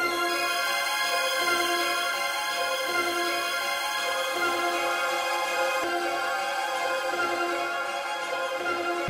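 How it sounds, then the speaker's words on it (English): Layered synth pads playing a MIDI melody for a dark trap beat, a sustained bright chordal wash with high shimmering end, steady and continuous throughout without voices. "For the pad, obviously, we're going to go for the synth pads,"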